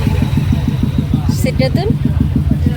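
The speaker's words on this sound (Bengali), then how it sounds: "এই যে জ্যামে দাঁড়া রয়েছে আমরা" Motorcycles idle together in a stopped traffic jam, a steady low engine putter pulsing throughout at close range, with brief higher mechanical whines cutting in midway.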